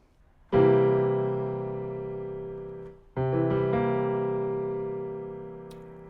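A sustained C dominant seventh chord rings out on a keyboard instrument and slowly decays, then is struck again and held, with no voices.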